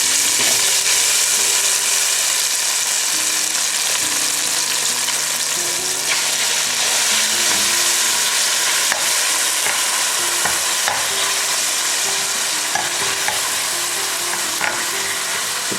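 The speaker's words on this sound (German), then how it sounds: "werden wir sie jetzt noch schön anbraten" Whole-grain spätzle fry in a hot pan, a steady loud sizzle with occasional stirring scrapes and clinks throughout, close up and without speech.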